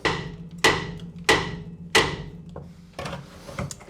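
A hammer striking a car's rusted, worn brake disc: four loud, evenly spaced metallic blows close by, each ringing briefly, followed by a few softer knocks.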